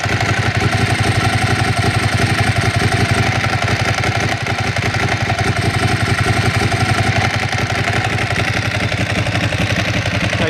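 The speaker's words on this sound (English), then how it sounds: "the other noise you can hear, probably equally as loud as the exhaust, is that classic Ducati dry clutch." Ducati dry clutch rattling with the clutch lever pulled in on a running motorcycle; a close, continuous metallic clatter over the steady engine drone, with no speech.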